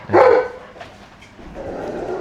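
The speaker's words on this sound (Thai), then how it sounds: "สงสัยมีคนลงมาที่บ้านหมาเห่าใหญ่เลย" A dog at a house gives one loud, close bark near the start, followed by quieter muffled noises and a low rumble.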